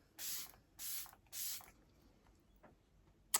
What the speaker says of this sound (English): I'm going to pre-spray a spray just to make sure it's actually going to spray nicely